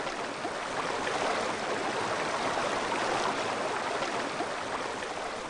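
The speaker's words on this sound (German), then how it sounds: "Aber das sieht gar nicht mal so schlecht gemacht aus, dieser Strudel." A swirling whirlpool current in the Indiana Jones game Tower of Babel gives a steady, loud rush of churning water, unbroken and without voices.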